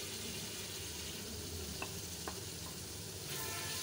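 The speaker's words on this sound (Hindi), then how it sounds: "अब हम इसके अंदर टमाटर शामिल करते हैं।" Tomatoes dropped into a pan of frying tadka dal for restaurant-style shahi dal give a steady close sizzle and crackle, with a couple of brief clicks of a spoon or pan partway through.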